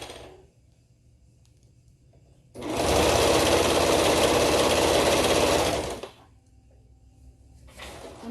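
A serger sewing machine runs fabric through along a crotch curve for knotted overalls, one loud continuous whirring burst of about three and a half seconds between quiet stretches, with faint handling noises before and after.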